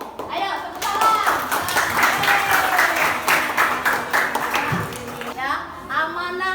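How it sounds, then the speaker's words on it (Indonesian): Junior high students clap together in an Indonesian classroom, a dense burst of applause lasting several seconds with children's voices mixed in and around it. "Ayo, tepuk tangan."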